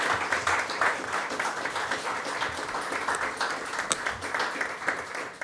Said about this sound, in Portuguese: Quero aqui pedir a todos uma grande salva de palmas a todos os servidores da Prefeitura do